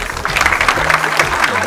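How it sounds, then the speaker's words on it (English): A crowd applauds at a corporate awards night in Mumbai, steady dense clapping throughout with faint voices underneath. "A big round of applause."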